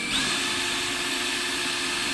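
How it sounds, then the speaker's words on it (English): Power drill whirring steadily for about two seconds at close range, boring a pilot hole through the plastic trunk of a Can-Am Spyder. "Always pre-drill it"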